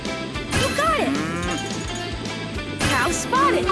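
A cartoonish cow moo rings out in a Paw Patrol video game, with bright game music and sound effects layered around it and a swooping tone returning near the end.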